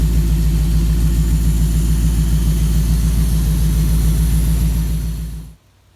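A 1967 Ford truck engine with a newly installed stainless exhaust idles with a deep, steady exhaust rumble, loud and close, then cuts off abruptly near the end, leaving near silence.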